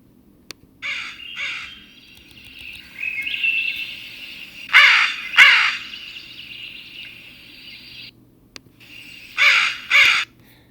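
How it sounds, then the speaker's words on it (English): Several harsh American crow caws ring out in short bursts and pairs, separated by pauses, with a quiet hum in the background. "Here's the American crow."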